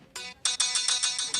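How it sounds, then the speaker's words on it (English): A bright electronic phone ringtone plays a quick series of repeated tonal bursts, close and clear, with no talking. "Please tell me you got rid of that annoying ringtone."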